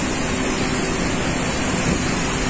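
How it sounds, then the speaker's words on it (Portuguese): Roaring torrent at the base of the Tombos waterfall beside a hydroelectric plant in Minas Gerais, a dense, continuous loud rumble of falling water with no speech. "na base da Cachoeira de Tombos, aqui na usina, a força das águas"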